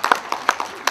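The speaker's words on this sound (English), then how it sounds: "Let's clap hands for him." Scattered hand clapping from a church congregation at an evening service, a handful of sharp claps spread irregularly over under a second, moderately near with no talking.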